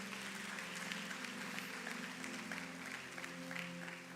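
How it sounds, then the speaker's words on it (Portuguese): A church congregation claps steadily through a worship service, the sound faint and distant over a low, sustained musical backing. "E aplauda o Senhor em nome de Jesus."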